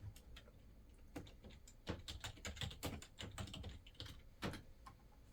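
Keys clatter on a computer keyboard in quick irregular bursts while someone searches online for LG C1/G1 firmware update issues, close and clear with no talk.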